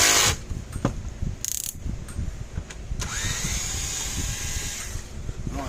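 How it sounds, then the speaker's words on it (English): Screws being backed out of the rear casing of a Gallagher M300 electric fence charger, with a power driver whirring in short bursts, metallic clicks and rattles up close, and faint handling noise. "So we're going to take these screws out the back."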